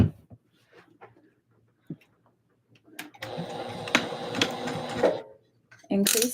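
Sewing machine top stitching a dress runs in a dense mechanical burst for about two seconds amid quiet handling clicks and brief talk, then stops and restarts.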